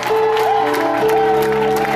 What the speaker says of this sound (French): donne acclamation à Jésus de Nazareth ce matin